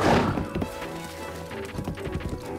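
Horse hooves clopping in a Zelda game, a quick run of hoof beats and thuds that begins with a loud impact and then settles into a steady, moderately near rhythm.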